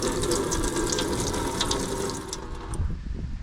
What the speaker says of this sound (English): I've got my tap and sink system going on here.